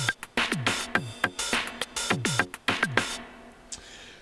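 A full drum loop plays from a Korg Volca Sample, with tight, punchy hits in a fast repeating pattern. It runs steady and alone for several bars, then stops with one last hit ringing out.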